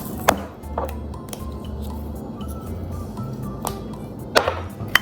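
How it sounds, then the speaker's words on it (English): Avocado mixture seasoned with salt and pepper is mashed and stirred with a spoon in a bowl, soft scraping and squishing with a few sharper taps against the bowl, under low kitchen background noise and without talk. "Mash and mix with a spoon."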